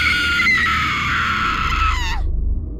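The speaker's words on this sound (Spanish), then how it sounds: "Debieron de ser las 4 de la madrugada cuando un grito me despertó." A loud, sustained scream rises and wavers for over two seconds, then breaks off abruptly into a low rumbling background, used as a sound effect in a narrated Spanish horror story about things crawling through empty streets.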